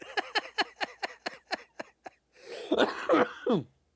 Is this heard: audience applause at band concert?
no